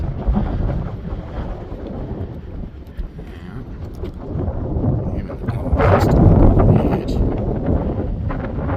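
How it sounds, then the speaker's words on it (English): Wind gusts buffet the microphone at the edge of a steep cliff in a petrified forest, a steady low rumble that swells louder near the end, with someone talking over it. "Feel the wind in your face."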